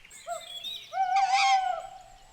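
An owl hooting in an animated cartoon: a few clear, tonal hoots and a longer wavering call, close and alone.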